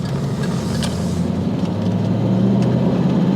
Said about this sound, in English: Great exhaust sound. All stock exhaust